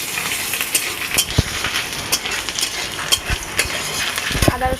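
Ginger and garlic frying in a pan, a steady crackling sizzle with frequent sharp pops and spits running throughout.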